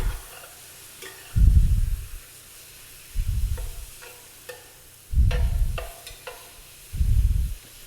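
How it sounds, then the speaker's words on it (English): Food being stirred in a pan while it caramelizes, with four or five scraping stirs in a steady rhythm over a soft, continuous sizzle of frying, close by and without talk. "So we're going to stir it around a little bit here."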